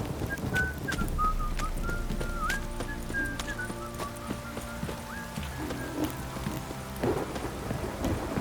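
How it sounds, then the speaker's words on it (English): Heavy rain pours steadily in The Witcher 3, mixed with rumbling and game ambience, including what sounds like horse hooves and tonal whistles, loud and continuous throughout. "This downpour's a bastard,"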